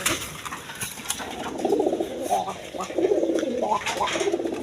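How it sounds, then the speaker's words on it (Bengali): A pair of Arabian Coca pigeons coo in soft, rolling bursts close by, one call after another with a short flutter early on, against a continuous murmur of background noise. "অ্যারাবিয়ান কোকা কবুতর"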